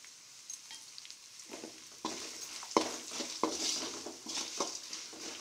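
Spices for puliyotharai, including fenugreek powder and asafoetida, sautéed in hot oil. A soft sizzle grows louder partway through, with repeated scraping stirs and light clinks of a spoon against the pan. No one speaks.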